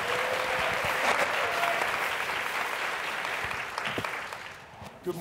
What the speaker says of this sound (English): And a great round of applause for our full panel.